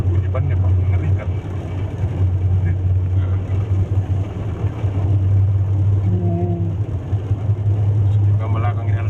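A motorcycle ridden through an oil palm plantation gives a loud, continuous low rumble of tyre and engine noise; the rear tyre is worn and squared off. Faint voices are heard over the steady drone.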